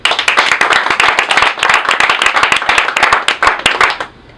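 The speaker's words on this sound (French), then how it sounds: "Applaudissez pour voir." Stand-up comedy audience breaking into dense, loud, close applause, a steady wash of many hands clapping that holds evenly and then cuts off near the end.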